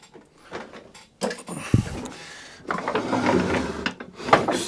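A Hayter 41 lawnmower is lowered back onto its belly and then tipped onto its side, giving a heavy thud followed by clunks, rattles and scraping of the machine's body nearby.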